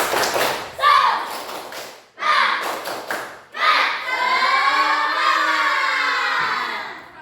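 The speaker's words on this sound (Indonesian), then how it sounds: "Tepuk semangat." A classroom of children does a rhythmic spirit clap, bursts of hand claps and thumps separated by short pauses, followed by a long sustained chant of young voices.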